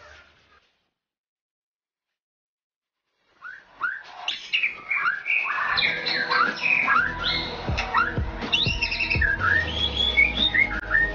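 A white-rumped shama, or murai batu, sings loud and close, a fast run of varied whistles, chirps and trills after a few seconds of silence.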